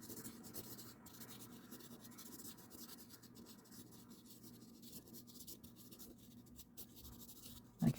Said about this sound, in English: So I'm just going to scribble.